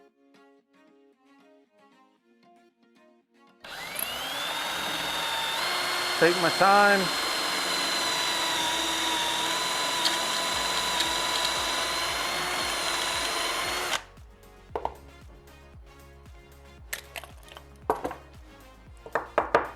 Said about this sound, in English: just let the drill bit do its job